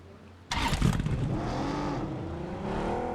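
A car engine in the mobile battle royale game PUBG Mobile kicks in abruptly after a quiet moment, then revs and drones steadily, loud and close as the vehicle drives.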